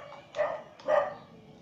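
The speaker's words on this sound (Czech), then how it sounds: "Pejsek štěká" Two short, sharp barks from a small dog, spaced about half a second apart, fairly close and clear against a quiet background.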